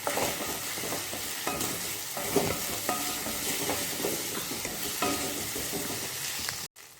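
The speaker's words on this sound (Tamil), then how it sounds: "முட்டை இப்போ நல்லா பொறிஞ்சு பெரிய பெரிய பீஸாக வந்துருச்சு" Eggs seasoned with salt and pepper fry and are stirred in a pan, a continuous close sizzle with repeated light scraping strokes throughout, cut off abruptly just before the end.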